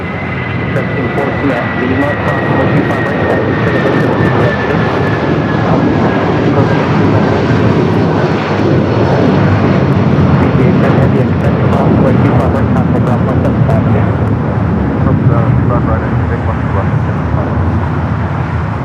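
Air Canada Rouge jet airliner taking off at LAX, a loud sustained engine roar filling the whole stretch with a thin rising whine on top, steady and close, while a voice talks over it now and then.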